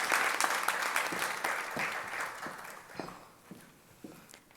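An audience applauding at an FFA awards ceremony in a high school setting, steady clapping that thins out and fades into scattered claps toward the end.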